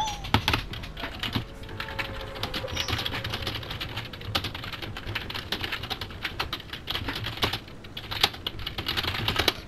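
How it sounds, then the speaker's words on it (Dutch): Rapid, frantic typing on a computer keyboard while a message is written during a Fortnite session: dense, close clatter of keys, steady and busy with short pauses. "Ik die nu heel erg spastisch op mijn keyboard zit typen omdat ik een bericht ben aan het typen."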